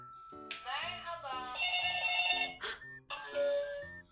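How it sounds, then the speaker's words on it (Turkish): A toy telephone rings in a loud electronic melody of bright tones in bursts, with a brief gap near the end before it resumes, close to the ear. "Telefon çalıyor"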